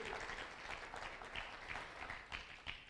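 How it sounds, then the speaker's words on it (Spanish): Church congregation applauding loudly during a sermon, a steady wash of many hands clapping throughout with no clear gaps, fairly close and full. "dele un aplauso fuerte a esta palabra también"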